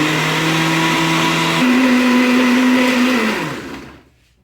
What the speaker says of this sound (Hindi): अच्छी तरह से ब्लेंड कर लेंगे